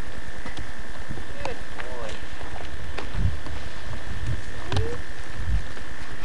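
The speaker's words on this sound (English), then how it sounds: "You want to come see the donkey?" A donkey walks near a family on an outing in Big Bear, its hooves giving a few scattered, soft clip-clops over a busy outdoor background with birds chirping and people talking nearby.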